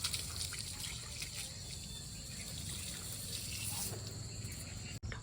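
Water runs steadily from an opened tap, a continuous close trickling and splashing wash that holds level throughout with a brief dropout near the end; no talking.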